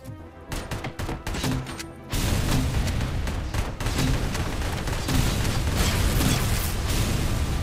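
Grenade launcher blasts and gunfire in the RoboCop: Rogue City video game: sharp bursts at first, then a loud, dense barrage of explosions and mechanical clatter running without pause.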